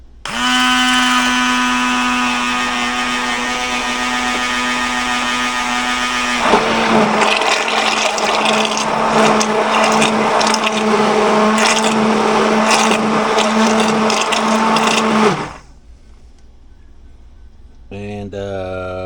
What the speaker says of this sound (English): We're just gonna take this immersion blender.